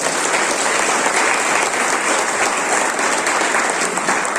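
Loud, sustained audience applause for Diamond achievers at a national EMI tour gathering near Jim Corbett National Park, a thick, even wash of many clapping hands with faint crowd noise throughout.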